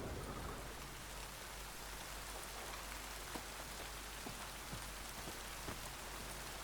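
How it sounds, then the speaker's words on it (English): Steady rain falls in The Witcher 3 Next-Gen Update, a dense even hiss of drops on surfaces with occasional louder individual drips, continuous and without speech. "Oh, do people actually hide from the rain now?"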